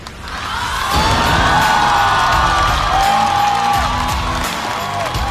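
A studio audience at a comedy talk show erupts in loud, sustained cheering and whooping with applause as guests come out, the roar swelling quickly and holding steady.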